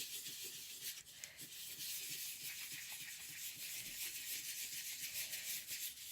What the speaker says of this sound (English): you just use some tissue paper again and take off any residue off the top